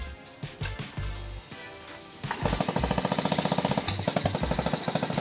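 An old Honda Monkey 50cc motorcycle, apparently with a loose header cover, sputters through a few uneven firing bursts and then settles into a fast, steady, rattling idle, loud and close.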